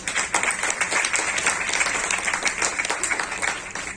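An audience at a training session bursts into dense applause, many hands clapping together in a loud continuous roar that holds for the whole stretch.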